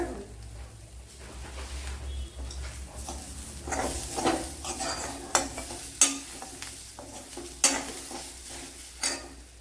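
Four cardamom pods and curry leaves sizzling in hot oil in a pan before bitter gourd is added, with steady crackling and frying hiss under stirring and several sharp clacks of a spoon against the pan.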